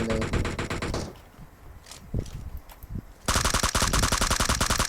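Rapid automatic gunfire rattles loudly in a PUBG Mobile match, a dense burst at the start, a short quieter gap with scattered shots, then another sustained volley to the end.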